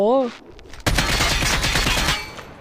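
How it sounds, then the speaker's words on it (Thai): A video game gun firing a rapid burst at bulletproof glass, a dense loud clattering volley with a hard metallic ring that lasts nearly two seconds, preceded by a brief voice. "ยิงใส่กระจกเสียงเหล็กครับทุกคน"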